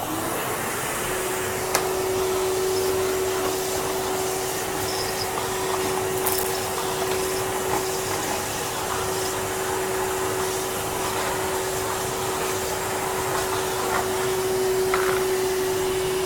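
A shop vac runs over wooden decking slats with a steady, droning motor whine and rushing airflow, continuous and loud throughout with a faint click near the start and no speech.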